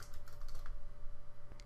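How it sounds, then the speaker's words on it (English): Rapid key taps on a computer keyboard while an admin password is entered on an Avaya AS5300 system, a steady close clatter of light clicks over a faint hum. "we'll have to enter in the admin password"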